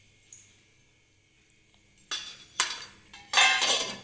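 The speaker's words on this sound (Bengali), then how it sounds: "জাস্ট এই চামচে 2 চামচ 5 ফোড়ন দিয়ে দিলাম।" A spoon scrapes and clinks against a hot pan as two spoonfuls of panch phoron spices go in for a potato, pointed gourd and soya chunk curry, with several bright bursts of metallic clatter and faint crackle in a quiet kitchen.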